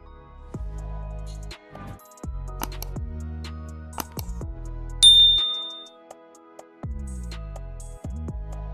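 A series of bright notification dings and chimes sound one after another, each struck tone ringing briefly and decaying, with a few overlapping clicks and a sharper high chime near the middle, heard alone without speech.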